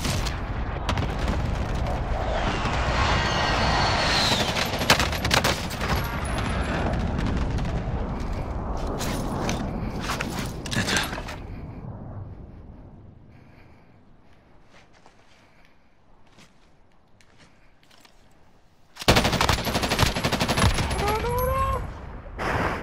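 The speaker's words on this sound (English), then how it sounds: "Enemy precision airstrike." Precision airstrike in a battle royale video game, with dense booming explosions and gunfire crackling loudly before fading into quiet, then a sudden burst of blasts and action returning.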